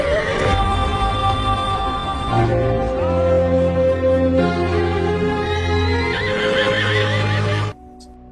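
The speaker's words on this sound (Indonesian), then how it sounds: "Ketika tiba di halaman istana, seekor kuda tiba-tiba mengamuk." A horse neighs and rampages in a palace courtyard, with loud, shrill whinnies running nearly continuously over a steady tonal background before cutting off abruptly at the end.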